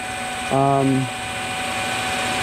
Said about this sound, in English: Just start drilling nice and slow